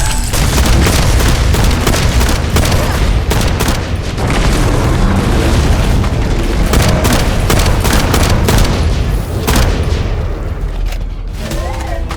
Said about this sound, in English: Summoning assault turret.